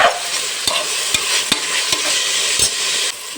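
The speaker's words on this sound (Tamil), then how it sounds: "கொத்தமல்லி கருவேப்பிலையும் சேர்த்துக்கலாம் அதையும் கலந்து விட்டுக்கலாம்" Coriander and curry leaves stirred and frying in a pan for peas pulao, a steady sizzle with several sharp spoon scrapes and knocks against the pan, close up, with no talk.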